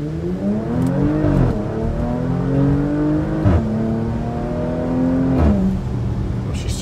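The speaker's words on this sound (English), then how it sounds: "We're going to take it for a test drive. He's got it in manual mode. We're going to see how the acceleration is." A 2021 Porsche Macan GTS with a 2.9L engine, MBRP cat-back exhaust and PDK gearbox accelerates hard in manual mode, revs climbing and dropping with quick shifts, loud and close, with no talk.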